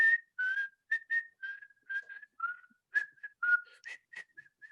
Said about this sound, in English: The whistle. Coming from, of course, the iconic soundtrack of Kill Bill.